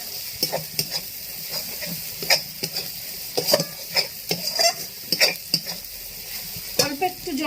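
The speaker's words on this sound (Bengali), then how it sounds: "হলুদ গুঁড়োটা দিয়ে দিলাম, ধনিয়া গুঁড়ো জিরে গুঁড়োটা দিয়ে দিলাম, দিয়ে এবার আমি নাড়ব" A spoon scrapes and clatters in a pan while turmeric, coriander and cumin powders sizzle in hot oil for a spicy small fish curry, the irregular stirring knocks set over a soft steady frying hiss.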